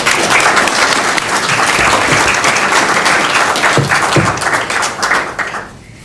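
An audience at an Alzheimer's disease treatment lecture applauds warmly, loud sustained clapping from many hands that fades out near the end.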